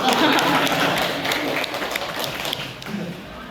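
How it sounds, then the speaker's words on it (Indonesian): Students clap together during a senior high school talk on university admission, a dense, steady patter of many hands that fills the clip with voices mixed in underneath. "Oh, tepuk tangan lagi dong."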